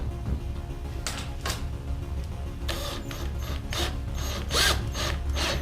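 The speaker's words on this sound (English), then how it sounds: "Put the wrench on the nut. And slowly tighten it down." A wrench ratchets in repeated clicking bursts while a nut is tightened on a heavy-duty kayak handle, the close mechanical clicks standing out over a steady low background hum, with no talking.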